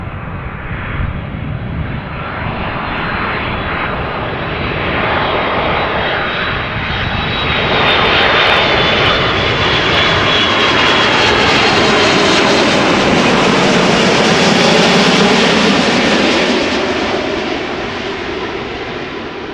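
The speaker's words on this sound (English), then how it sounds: "The first airplane of the day, Delta A330, they're flying back to Amsterdam again" Delta Airbus A330 arriving at Amsterdam Schiphol Airport, a loud continuous roar of jet engines swelling as the airliner passes close, then easing slightly, with a whining high tone on top.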